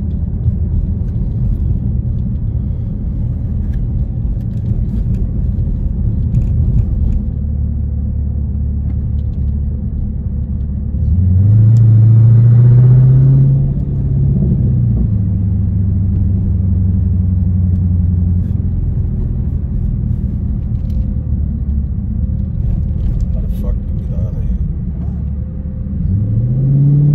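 A 2018 Dodge Challenger's engine rumbles low and steady from inside the car while pulling through a large parking lot, swelling into a louder rev around the middle before settling back to a deep drone.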